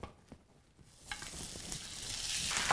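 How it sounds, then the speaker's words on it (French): Grated potatoes poured into a hot pan of olive oil: quiet at first, then a sudden sizzle breaks out and grows into a loud, steady frying hiss that keeps building to the end. "Dans une poêle chaude, je mets l'équivalent de 3 cuillères à soupe d'huile d'olive. Puis, je verse les pommes de terre."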